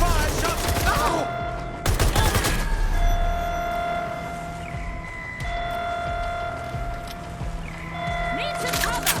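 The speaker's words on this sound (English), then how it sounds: "Shots fired, shots" Bursts of gunfire in Watch Dogs Legion, with a loud volley near the start, another sharp burst around two seconds and more shots at the end, over a steady game backdrop with electronic tones.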